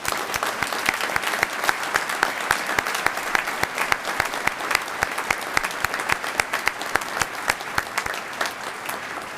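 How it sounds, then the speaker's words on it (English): A large audience at a spring graduation ceremony applauds the graduates' families, dense continuous clapping that holds at an even, full level for about nine seconds. "I would ask for a round of applause for all of them"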